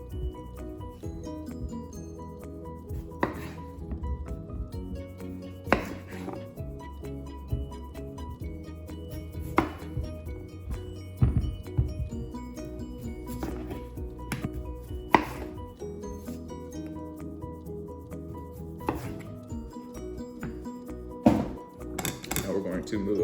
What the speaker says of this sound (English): I'm gonna cut off the ends and peel them.